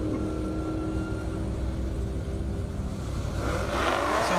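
A Dodge Challenger Hellcat races down a half-mile airstrip, its engine a steady low roar that holds and builds toward the end, heard from a distance without speech.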